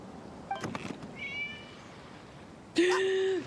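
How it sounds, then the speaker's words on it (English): A cat meows in a video game, giving a few short chirpy mews and then one louder, longer, level meow near the end, over a quiet background. "It was just a cat."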